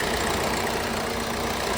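A 2018 Maruti Brezza VDI diesel engine idles with a steady, close, low rumble and a faint diesel clatter, alone and unchanging for a short moment.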